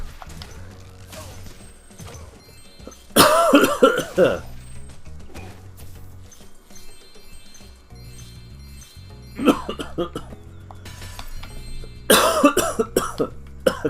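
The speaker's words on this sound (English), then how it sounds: "Cough." A few sharp, harsh coughs in separate bursts, spaced apart over a low musical background.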